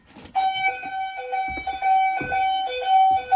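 Fire alarm system sounding after a dual action pull station is activated, a loud close electronic tone repeating in steady pulsing bursts with short gaps, alone without talk.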